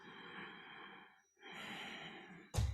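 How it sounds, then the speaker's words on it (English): Slow, gentle breathing, close to the ear: a long soft inhale, a brief pause, then a long airy exhale, ending with a short sharp burst of noise. "breathe in and exhale. It'll sound like this."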